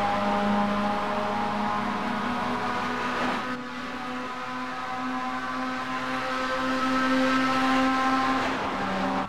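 NASCAR race cars roar around Atlanta Motor Speedway in a Friday night race, a steady loud engine drone with shifting pitch as cars pass, no talking.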